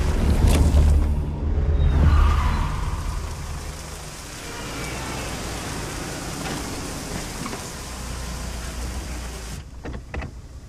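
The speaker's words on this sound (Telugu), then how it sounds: "వర్షం బాగా పడుతుంది" Heavy rain pours steadily in a continuous broadband hiss, loudest in the opening seconds with a low rumble beneath, then settling into an even downpour before a few brief knocks near the end.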